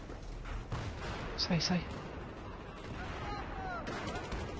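Gunfire in Battlefield 3 during a Rush match: a few short bursts of shots and blasts sound over dense battlefield noise while a player talks throughout.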